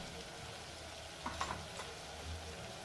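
Nilanga-style spiced rice masala with garam masala frying in oil on a low flame, giving a soft, steady sizzle with a few faint stirring clicks.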